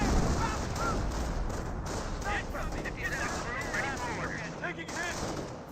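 M2 machine gun fire in Company of Heroes, a steady dense rattle of automatic fire mixed with other battle noise, with a voice talking over it.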